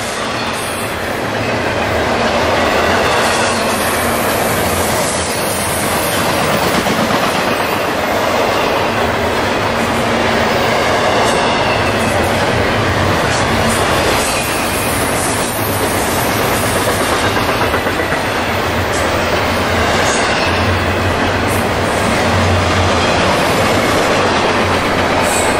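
A freight train hauled by an AC44 diesel locomotive, about 2,700 feet of mostly double-stack cars, rumbles steadily past at close range, a continuous heavy roar with rhythmic clacking wheels and faint squeals, loud throughout.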